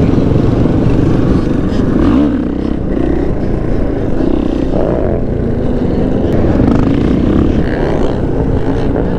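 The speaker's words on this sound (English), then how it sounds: "Letting off the throttle and just getting back onto it so smooth." A motorcycle on a stunt ride rolls off and back onto the throttle, its loud engine rising and dipping in waves close by, with little else heard.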